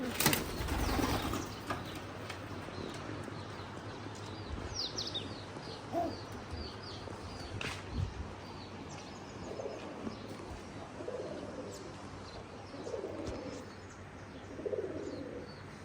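Pigeons coo in a series of soft, low, rounded calls repeating every second or two, close but quiet, over a hushed outdoor background with faint chirps and scattered knocks.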